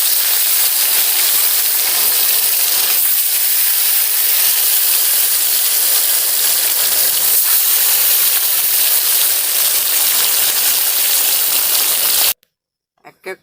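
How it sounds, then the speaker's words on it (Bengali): Katla fish pieces frying in oil in a wok give a loud, steady, close sizzling hiss that runs without a break for about twelve seconds, then cuts off suddenly, leaving a couple of faint knocks. "এইভাবে মাছগুলোকে হালকা করে ভেজে নিতে হবে। একে একে আমি সব মাছগুলোই ভেজে নেব।"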